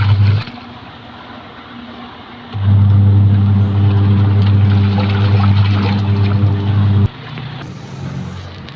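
A washing machine motor running off a solar battery setup, a steady low hum and churn that starts quietly, grows louder and fuller midway for several seconds, then drops back to a softer running drone.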